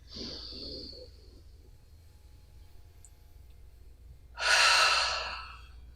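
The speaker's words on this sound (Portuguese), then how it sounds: "Dá 2 respiradas aí." Deep breathing during a stretching exercise in an adult science lesson: a soft, airy inhale at the start, a quiet pause, then a loud, broad exhale that fades out, close to the mic with no talk.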